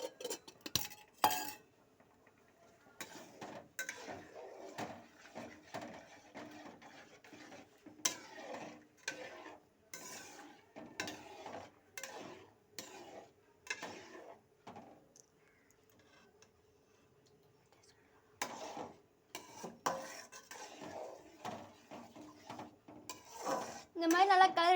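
Ghee being stirred into a dish in a pan, with repeated clinks and scrapes of a spoon against metal coming in irregular bursts, separated by quieter gaps.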